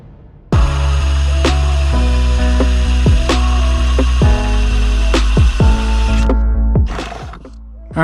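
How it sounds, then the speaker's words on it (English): A loud power drill whines steadily close up while drilling holes for aluminum rocker guards on a Jeep JL Wrangler Unlimited, its pitch dipping and recovering repeatedly as it bites in, then winds down. "I think I'm just gonna bite the bullet and start drilling."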